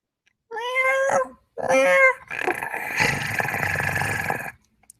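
Cat meowing loudly and close, two long tonal meows followed by a harsher, drawn-out caterwaul, with no talk.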